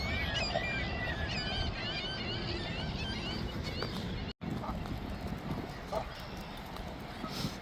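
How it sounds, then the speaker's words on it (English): Urban geese honk repeatedly in a city park, their calls rising over steady outdoor noise from a ride, with horse-like clip-clop sounds and a voice mixed in. "You got those urban geese again"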